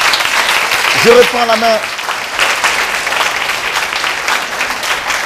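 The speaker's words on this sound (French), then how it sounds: "Chers amis, applaudissez-vous encore une fois, s'il vous plaît." A live audience at a youth arts and culture event applauds continuously and fairly loudly, while someone speaks briefly over the clapping early on.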